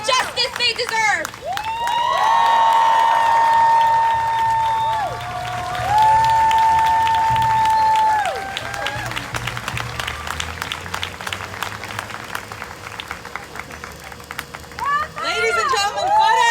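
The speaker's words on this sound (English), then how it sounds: "Farah, give her another round of applause." Audience applause and cheering at a speaking event about Palestinian justice, swelling into a sustained crowd roar with shouts and whistles, then settling into scattered clapping under crowd babble.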